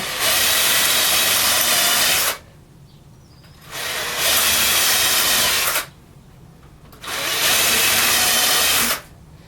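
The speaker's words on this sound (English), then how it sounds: "Right, we can drill these." A power drill runs in three long bursts of high, hissing whine, each lasting about two seconds, separated by short quiet pauses, drilling pilot holes into OSB.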